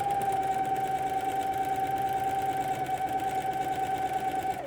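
A sewing machine stitching a cushion cover, running in a continuous rapid whirring rattle with a steady high whine, close and alone.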